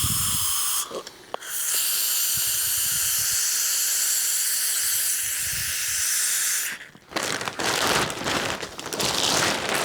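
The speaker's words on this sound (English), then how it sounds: "I'm also going to spray a little bit of the glue inside a pot" Aerosol contact adhesive hisses in a steady, loud spray for about six seconds with a brief break near the start, followed by shorter bursts and rustling, likely into a pot while wrapping Land Rover Defender door cards in faux leather.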